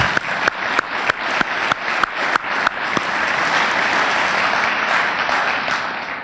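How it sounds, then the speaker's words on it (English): Conference audience at a faith and business event breaking into applause: a few sharp individual claps at first, then swelling into sustained, even clapping from a full room. "How about a round of applause there?"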